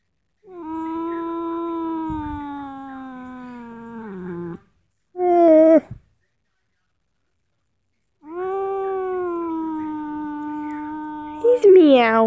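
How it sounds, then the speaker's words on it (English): A cat meowing indoors, with long, drawn-out, wavering yowls close by. One sustained call is followed by a short sharp meow, then a pause and another long, rising call. "He's meowing."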